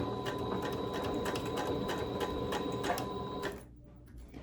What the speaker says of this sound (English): so we're just going to sew right down one side and then right down the other.